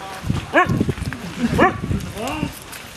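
A small dog barks outdoors on a walk along a trail behind a residential neighborhood, a few sharp yaps spaced out over several seconds, mixed with people talking and background noise.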